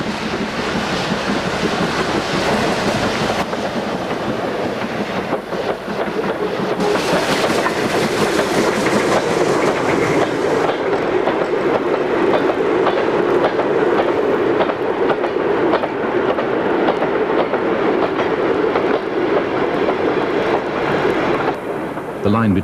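A steam passenger train on a heritage line during a gala, led by 7802 Bradley Manor with Somerset and Dorset 280 at the rear, rumbles and clatters past loudly and continuously, with a voice speaking at times.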